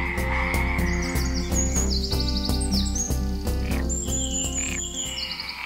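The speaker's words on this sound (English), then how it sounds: "The nocturnal frog concert cannot be overheard. Among other things, I believe I heard tree frogs." A dense chorus of Mediterranean tree frogs croaks in rapid, regular pulses at night near a campsite in Extremadura, loud and close, with bird chirps and trills layered above.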